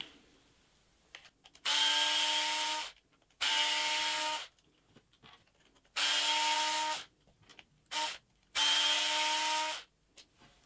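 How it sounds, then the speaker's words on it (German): A cordless screwdriver with a 2.5 mm hex bit backs out the steering servo screws on a Traxxas TRX4 RC crawler, whirring in four close, loud bursts of one to two seconds each, separated by short pauses. "hier können wir ruhig einen Akkuschrauber verwenden"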